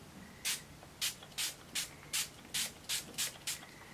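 Eight quick hissing spritzes from a honey primer spray bottle, evenly spaced and close, each a short burst of fine mist.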